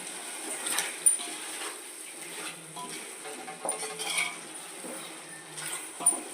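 Homemade masala paste stirred in a pot for gongura chicken biryani, with faint, intermittent spoon scrapes and metallic clinks against the pot at close range.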